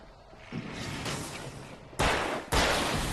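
Gunfire from the video game Alan Wake: three shots, two of them sharp and loud close together near the end, over a dim game backdrop.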